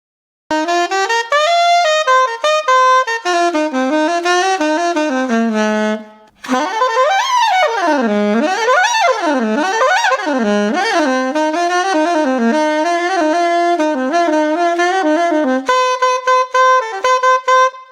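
An $800 soprano saxophone plays a solo melodic line alone, bright and somewhat nasal in tone, with sustained notes, a brief pause, then flowing runs and bends at steady, close volume.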